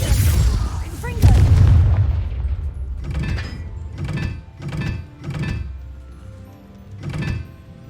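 The Confringo blasting spell from Hogwarts Legacy goes off with a heavy boom, followed by a string of about five sharp, evenly spaced bursts, the effects loud and close in the game.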